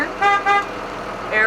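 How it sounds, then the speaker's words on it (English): A truck's city horn sounds during an in-cab pre-trip inspection: two short honks close together, then a third brief honk, loud and close inside the cab. "Got my city horn"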